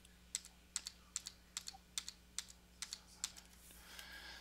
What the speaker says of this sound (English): I'm going to click on this and hit Control D to duplicate it 8 more